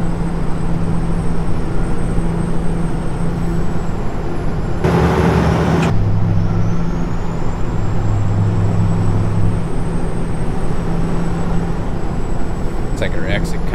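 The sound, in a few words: Kenworth 900 truck pulling alongside, video game American Truck Simulator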